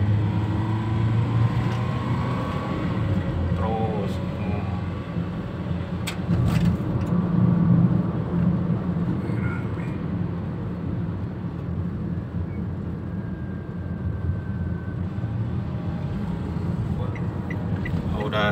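A tuned Toyota Calya, previously sluggish and puffing, accelerates along a road with a steady engine hum and road noise from inside the cabin, while people talk quietly over it.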